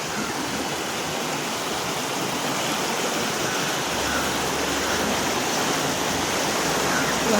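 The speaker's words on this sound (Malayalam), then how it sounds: "തോട് നിറഞ്ഞ് എന്താണ് മഴ ഇപ്പോൾ കുറച്ച് ദിവസമായി മഴയല്ലേ, അതാണ് തോടൊക്കെ നിറഞ്ഞു കേട്ടോ." A rain-swollen roadside stream rushes by after days of rain, its muddy water making a loud, continuous broadband roar with no breaks, close by and steady throughout; no one speaks over it.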